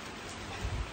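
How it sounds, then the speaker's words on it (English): Heavy rain pours steadily outdoors during a rabbit harvest, a dense, close hiss of drops with low rumbling gusts, no voices. "It is raining like crazy now and not feeling very nice at all."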